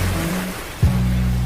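Surf rolling onto the private beach of the Aston Anyer hotel, a continuous wash of wave noise with a low thump and swell near the end.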